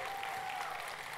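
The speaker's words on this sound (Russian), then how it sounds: "Зеленые аплодисменты." Audience at a national entrepreneurs' congress breaks into applause, a brief, dense burst of crowd clapping lasting about a second at moderate level.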